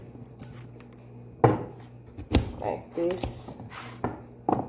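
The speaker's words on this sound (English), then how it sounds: "I'll cut the carrot" Kitchen knife cutting a carrot for a celery-orange detox juice, a few sharp chops spaced out and close by, with a voice speaking briefly over the cuts.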